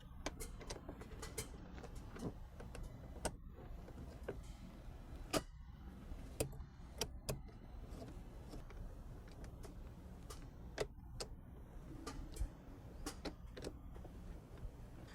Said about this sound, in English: now we're going to go ahead and tighten down on the clamps